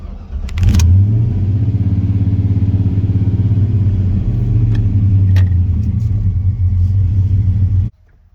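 An OBS-era Ford shop truck with 208,400 miles drives off, its engine a loud, steady rumbling drone heard from inside the cab, holding even for several seconds before cutting off abruptly.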